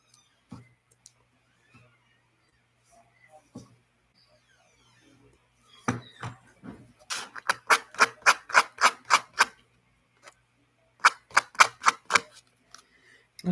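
Scissors snip through material at a home crafting session, a quick run of sharp, close clicking cuts in two rhythmic bursts after a long near-silent stretch.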